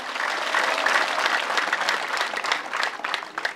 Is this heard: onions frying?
no